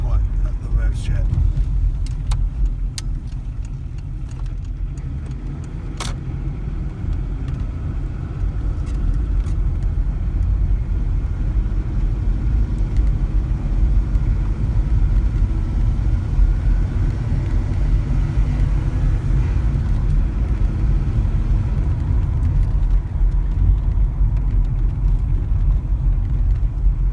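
A Volvo 940 diesel car is heard from inside while driving, its engine at higher revs giving a steady low rumble and droning vibration throughout, with brief clicks early on and a faint voice.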